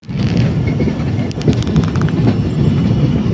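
A passenger train running on rails during an overnight journey toward Puri, with a loud, steady low rumble and faint rhythmic clatter of wheels, with no talking.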